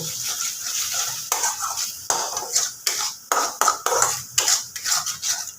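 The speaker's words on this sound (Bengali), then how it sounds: "এবার আমি মশলাটাকে ভালো করে কষে নেব" A spice paste with cashews is stirred and fried in a pan over medium flame, with repeated scraping and clinking of a spoon against the metal in uneven strokes over a soft sizzle, close and moderately loud.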